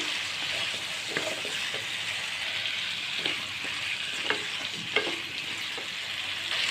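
Spice paste frying in oil in a pan for a Bengali pumpkin fish curry, a steady close hiss and sizzle with scattered scraping clicks of stirring throughout.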